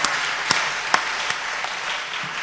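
A church congregation applauding during a Sunday service, scattered claps with a few sharp louder hits over a steady patter, moderately loud and without talk.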